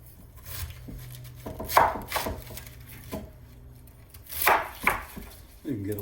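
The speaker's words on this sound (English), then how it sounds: "I usually just cut around the core." A knife cuts through a head of cabbage around the core, giving a few scattered crunchy chops and slices close by in a quiet kitchen.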